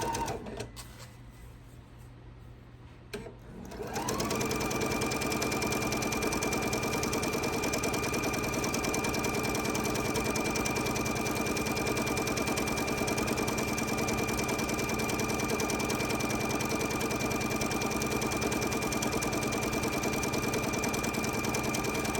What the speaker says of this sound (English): You're just going to start sewing and sew all the way across the bottom.